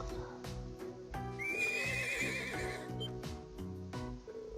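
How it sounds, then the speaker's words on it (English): A white horse from the North Highlands in the video game The Legend of Heroes: Trails of Cold Steel gives a loud, drawn-out whinny amid clip-clopping hooves and a layered game soundtrack. "this horse has certainly arrived from the North Highlands"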